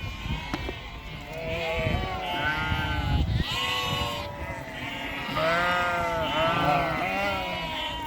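Several sheep in New Zealand bleat loudly and repeatedly, overlapping calls from close by, with shuffling and movement noise in between.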